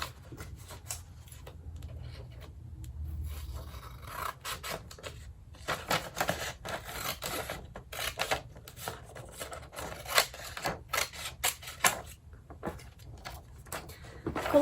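Scissors cut through a sheet of origami paper, a run of close, dry snipping and slicing strokes with soft paper rustle, fairly quiet and alone.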